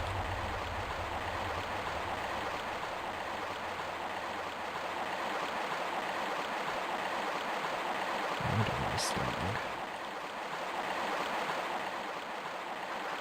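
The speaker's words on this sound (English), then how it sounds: "See the water." Steady flowing water of a stream in the remastered Tomb Raider I–III game, a constant broadband rush that carries on without pause, with a brief splashing burst partway through.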